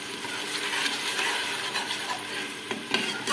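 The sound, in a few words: tomato paste added to frying ginger garlic paste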